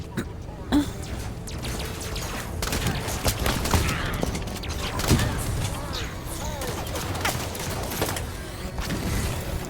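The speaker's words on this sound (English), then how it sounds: "there's grenades everywhere" Grenade explosions in Halo 5: Guardians co-op play, a busy string of thuds and sharp bursts going off throughout, overlapping with gunfire, while voices talk over the din.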